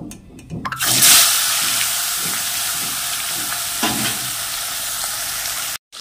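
Fish sizzling steadily in hot oil in a pan over a low gas flame, a loud continuous crackling hiss with a few stirring clatters near the start and a brief cutoff at the end.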